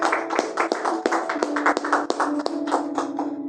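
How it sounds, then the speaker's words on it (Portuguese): A church congregation claps for Jesus during a service, a run of crisp separate hand claps at a brisk, fairly steady beat. A sustained low tone hums underneath throughout. "Palmas para Jesus"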